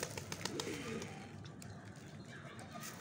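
Soft pigeon cooing close by over a steady background hum, with a few faint chirps and clicks.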